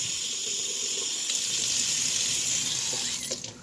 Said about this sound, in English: you gotta add that little bit of water